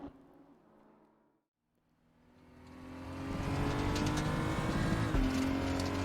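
BMW 235i race car on a hot lap around Chang Circuit in RaceRoom, the engine dipping briefly to near silence, then climbing into a loud, sustained high-revving drone with tire noise, heard from on board.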